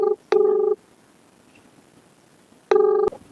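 Phone tones sound while a call is placed: a short steady tone, then a gap of quiet line hiss, then another similar tone, all close and clear.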